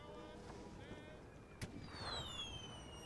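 A single distant artillery boom from enemy guns in a World War I video game rises briefly amid quiet ambient tones and faint background sound.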